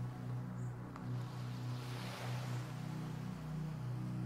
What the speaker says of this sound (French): avec cette eau qui va et s'en vient.